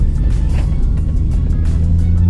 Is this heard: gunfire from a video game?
no